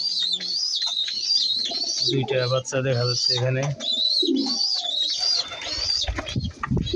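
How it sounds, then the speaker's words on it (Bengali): Pigeons at their nest with chicks give low, pulsing coos alongside high, thin squeaks, heard under a person speaking throughout. "এই যে কবুতরের বাচ্চা দিয়েছে"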